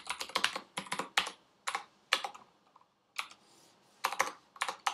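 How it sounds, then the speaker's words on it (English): Keystrokes on a computer keyboard while coding a React website, crisp and close, coming in quick clusters of taps separated by short pauses, with no other sound around them. "Oh, I'm having keyboard challenges again."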